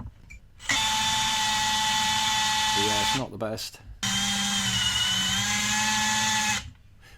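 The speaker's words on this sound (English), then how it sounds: "I think this little drill bit's gone a bit blunt." A high-pitched power drill with a blunt bit boring into wood whines steadily in two long bursts separated by a brief pause, with a voice speaking briefly between them.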